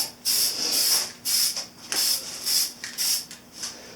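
A spray can lays a light coat of white paint on the front fender of a 1983 Honda CB1000 Custom motorcycle in short hissing bursts, about seven close sprays separated by brief pauses.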